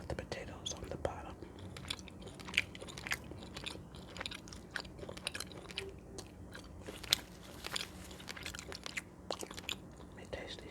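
Close, intimate chewing and crunching on homemade baked chicken, with steady moist bites and crisp crunches throughout, under soft whispering.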